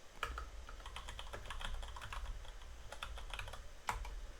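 Rapid keystrokes on a computer keyboard while entering commands into a console interface, a steady run of close, crisp clicks with a sharper tap near the end and no talking.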